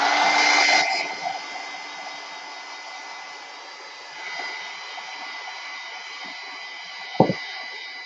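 A hair dryer blows steadily on an ink drawing at a moderate distance, loudest in the first second, then running on at a lower level with a brief knock near the end.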